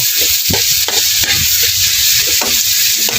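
Tomato and onion sautéing with garlic in a pan for ginisang ampalaya, a loud steady sizzle of frying with repeated stirring scrapes and knocks of a utensil against the pan, close up and without talk.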